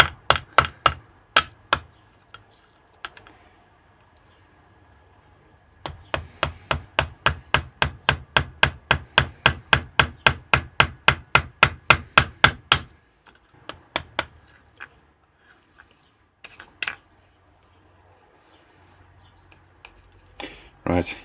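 Chisel strikes carving wooden grips for a CO2 1911 pistol: sharp, close taps in short bursts, then a fast even run of about two dozen blows, followed by a few scattered knocks.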